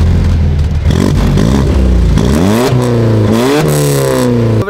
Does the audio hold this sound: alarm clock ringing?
no